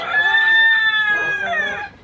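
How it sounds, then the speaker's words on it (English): At feeding time in a garden, a chicken gives a loud, drawn-out, strongly tonal call close by, followed by a shorter second call. "She's going to feed chickens, so you'll get a brief introduction of chickens."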